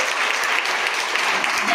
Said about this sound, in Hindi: आज आप एक सिस्टम को फॉलो कर रहे हो तो अपने आप के लिए तालियां बजा लीजिए जाकर